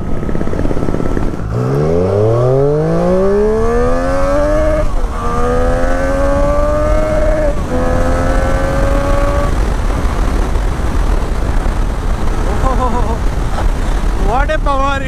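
A Harley-Davidson Fat Boy motorcycle with a loud exhaust revs up close, its engine note climbing through several gear shifts in repeated rising sweeps over steady road and wind noise.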